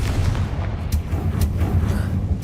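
A Confringo fire spell blasting in the video game Hogwarts Legacy, a loud rumbling burst of booming impacts with sharp cracks, heard alone.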